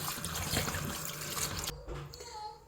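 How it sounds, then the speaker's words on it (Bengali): Running water splashes and trickles over food in a container, a steady rush that cuts off abruptly partway through, leaving faint dripping. "এখন পানি দিয়ে ভালো করে ধুয়ে পরিষ্কার করে নিব"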